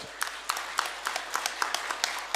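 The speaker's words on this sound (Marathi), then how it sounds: "चला एकदा टाळ्या वाजूयात" Audience applause at a televised Marathi event, heard as steady, close, crowded clapping with rhythmic louder clap bursts throughout and no voices.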